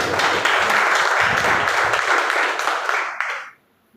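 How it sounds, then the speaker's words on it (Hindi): A seated audience at a wellness company business meeting breaks into loud, sustained applause, a thick roar of many hands clapping for about three and a half seconds before cutting off abruptly into near silence. "और जोरदार ताली चाहिए अपने लिए।"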